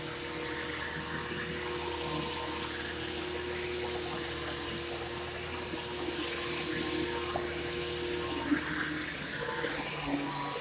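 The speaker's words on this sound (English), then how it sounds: "If you guys see this vacuum, it's doing really good." A Bissell vacuum cleaner runs steadily nearby, a constant whooshing motor hum at an even level throughout, with no clear talk.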